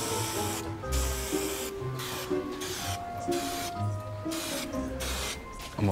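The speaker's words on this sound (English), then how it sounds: "it's all ready for spraying with some contact adhesive" Contact adhesive sprayed onto newly buffed vibraphone tubes in a repair workshop, a steady close hiss broken into several bursts of a few seconds each with brief gaps between passes.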